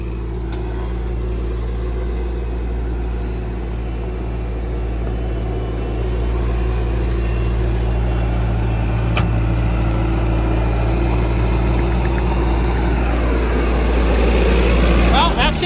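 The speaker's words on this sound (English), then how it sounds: "Glad to have the skid steer out here." A skid steer engine runs steadily outdoors in hot, humid Nebraska weather, a continuous low rumble that swells somewhat louder partway through, with people talking over it.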